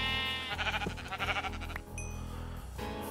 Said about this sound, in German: Noch ein Schaf.